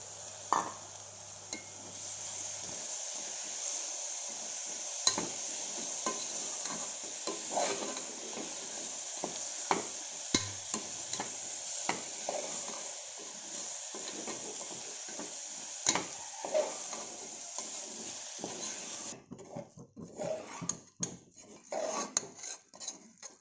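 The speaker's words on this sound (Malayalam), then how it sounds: "അത് നല്ലോണം വഴറ്റിയെടുക്കുക." Two large tomatoes are sautéed in a pan for beef dum biryani. A steady low sizzle runs under frequent scraping and stirring clinks from a utensil against the pan, close and fairly quiet, with no voices.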